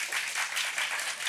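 Studio audience on a Turkish late-night talk show breaks into steady, dense applause, many hands clapping together at a fairly even level throughout the short burst, with no talk over it.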